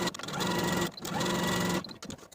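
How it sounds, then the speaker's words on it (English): A sewing machine runs a long basting stitch for a 3/8 inch seam on a sundress tier, in two steady bursts of rapid stitching with brief pauses between them. "use the longest stitch on your machine with about a 3/8 inch seam allowance and sew all the way from one top corner to the other"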